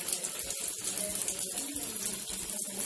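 Veg seekh kebabs fry in a little oil on a hot tawa, making a steady, close, hissing sizzle that continues without a break and with no talking.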